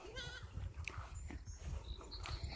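Goats on a small farm with horses bleat in short wavering cries, one near and then fainter calls, over a busy outdoor background of rustling and movement.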